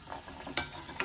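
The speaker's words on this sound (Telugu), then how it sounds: "ఇప్పుడు బాదాం వేసుకుందాము." Almonds stirred in a hot pan of oil for gongura egg curry, a faint steady sizzle with two sharp scraping clicks of the spoon.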